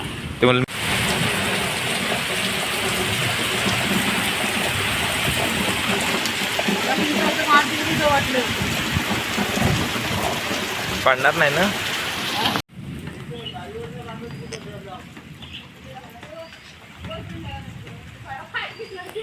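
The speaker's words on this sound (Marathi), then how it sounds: "आणि पाऊस लय लागतोय" Heavy rain pours down loudly and steadily during a windy storm in Konkan, a dense roar that drops to a quieter downpour partway through, with brief talk from people nearby.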